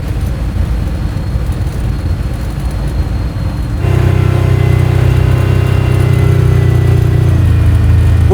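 A Whipple-supercharged V8 engine in a Chevrolet Bel Air rumbles steadily at idle, then its low drone jumps louder and deeper partway through and holds there.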